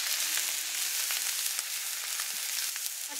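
Steaks searing in a hot pan give off a steady, dense sizzle that stays loud and even throughout, with small crackles and pops breaking through and no one speaking.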